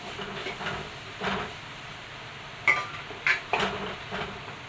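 Chili powder and turmeric powder stirred in a hot pan with a spoon: a quiet background hiss broken by several soft scraping and clinking strokes, a few sharper near the end, no voices.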